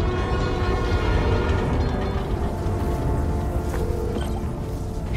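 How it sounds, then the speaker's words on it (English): A New York subway train in Spider-Man: Miles Morales rumbles steadily and loudly close by, a dense continuous roar with a faint horn-like tone running through it and no talk. "Trusty New York subway."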